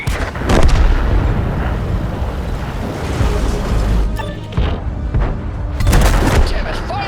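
Tank cannons fire during a World of Tanks campaign battle with Sherman, Tiger and Jagdpanther vehicles: several heavy booms with rolling rumble over a constant battlefield din.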